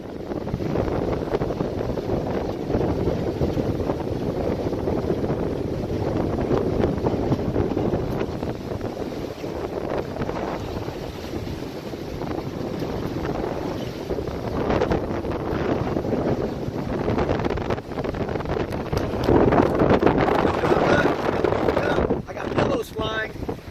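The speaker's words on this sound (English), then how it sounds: "He can't withstand the wind." Strong gusts of wind buffet a microphone on the Dauphin Island, Alabama coast during a severe squall, a loud continuous roar that surges and swells throughout, rising near the end, with a voice occasionally speaking beneath it.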